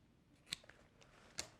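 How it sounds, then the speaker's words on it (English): Scissors snip excess duct tape on a homemade toiletry bag, two sharp close cuts about a second apart with faint handling noise between, quiet and without talk. "Now I'm just going to take my scissors"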